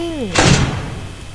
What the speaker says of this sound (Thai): ใครมันเปิดปิดประตูเล่นเนี่ย